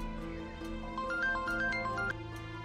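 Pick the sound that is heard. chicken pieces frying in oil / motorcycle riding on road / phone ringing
phone ringing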